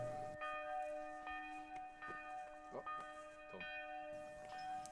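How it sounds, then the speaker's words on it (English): Church bells ring at a distance during a Swiss disc golf championship outdoors, with sustained tones and several faint strikes over a few seconds, soft and slightly muffled. "Ding, ding, ding. It's beautiful."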